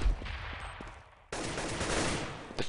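Rapid gunfire crackles through a Counter-Strike match, a loud burst of shots giving way to a sharp cut and then a dense, sustained rattle of automatic fire.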